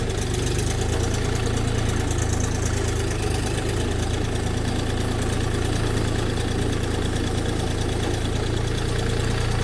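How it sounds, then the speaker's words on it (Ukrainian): A Xingtai XT244 mini tractor engine runs steadily in low gear, a loud, close, constant diesel drone with a knocking rumble and no pauses. "Бачите, досить невеличкий міні-трактор, скрізь пролізе. Давайте візьмемо другу понижену."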